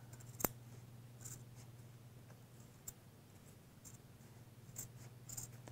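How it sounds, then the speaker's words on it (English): Scissors snip through a beige fabric seam allowance on a patchwork skirt waistband, giving a few sparse, light clicks and crisp cuts over a steady low hum, fairly quiet and close. "So I'm cutting down that beige seam allowance, which is going to be the internal seam allowance."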